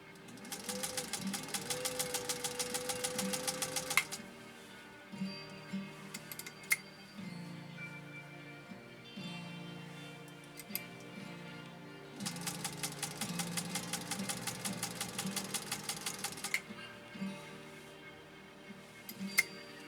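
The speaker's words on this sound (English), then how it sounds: "Let's actually sew this Italian leather now." A restored 1948 Singer 201-2 sewing machine stitching single-layer Italian leather: two fast, even runs of rapid needle ticking, with softer intermittent clicks and handling noises between them against a quiet musical backdrop.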